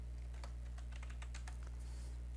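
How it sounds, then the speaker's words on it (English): Light, quick keystrokes on a computer keyboard tap out a short word while text is entered in design software, a steady run of soft clicks over a constant low hum. "let's type in Bella"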